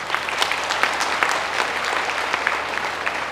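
A crowd at a Tamil debate-style speaking event in Kanchipuram applauds steadily, dense overlapping clapping sustained throughout at a fairly loud level.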